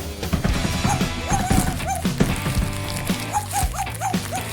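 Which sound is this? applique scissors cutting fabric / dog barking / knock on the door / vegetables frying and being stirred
dog barking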